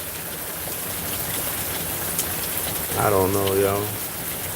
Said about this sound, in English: this rain right here, somebody's inconvenienced by it